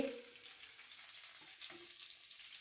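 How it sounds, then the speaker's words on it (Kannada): Grated carrots frying in ghee in a pan, a soft continuous sizzle with occasional stirring scrapes, close but quiet, with a brief voice at the start. "ಗೋಲ್ಡನ್ ಬಣ್ಣ ಬರೋವರೆಗೂ ಚೆನ್ನಾಗಿ ಫ್ರೈ ಮಾಡಬೇಕು ತುಪ್ಪದಲ್ಲೇ."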